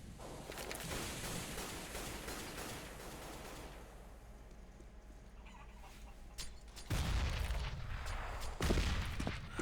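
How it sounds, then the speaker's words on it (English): Gunfire rattles nearly nonstop during a professional Counter-Strike match at IEM Katowice, with a frag grenade explosion; two heavy, louder blasts hit near the end over the dense, close crackle. "That was a nicely placed frag grenade."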